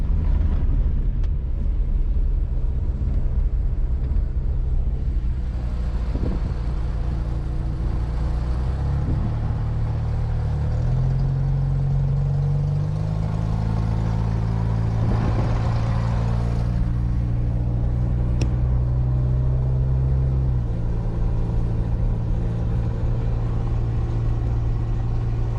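A Jeep drives over a bumpy forest road with a steady engine drone throughout, the tone rising and shifting with gear changes and rattles from the rough track.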